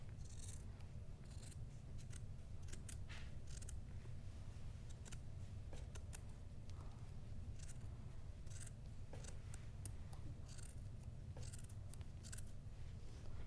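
Scissors snip steadily through a t-shirt, cutting it into a continuous strip for yarn, with a run of close crisp cuts over a constant low hum and no one talking.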